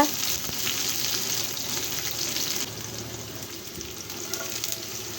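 Onion leaves fry in oil in a wok on a stove, giving a loud, close, continuous sizzle with a few faint stirring scrapes and no talk.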